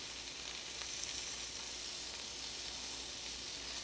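Sausage frying in a cast iron pan, giving a soft, steady, even hiss of sizzling fat at low volume with no talk.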